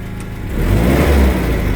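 A Cummins diesel engine revs up, its low rumble swelling in loudness and holding steady at close range with no talk over it.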